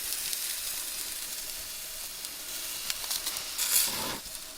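Food sizzles on a camp stove at a campsite, a steady soft hiss with occasional louder pops and a brief surge of spitting toward the end.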